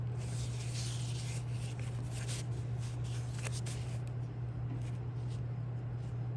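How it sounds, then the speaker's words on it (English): A fingernail smears and rubs a clay coil into the base of a coil pottery lid, producing soft, close, continuous scraping and rubbing over a steady low hum. "pulling, smearing that clay into the base clay, or our lid clay"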